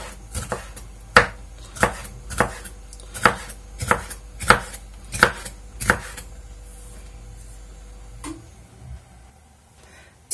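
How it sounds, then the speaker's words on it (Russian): A knife chops a bell pepper, halved lengthwise, into small strips on a board: about a dozen sharp, evenly spaced cuts up close, then a pause and one last knock. "Перец буду нарезать вот такими, ну как вдоль пополам разрезала и вот такими полосками небольшими."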